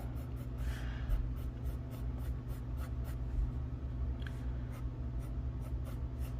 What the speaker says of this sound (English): Now I'm about to get into messy sketches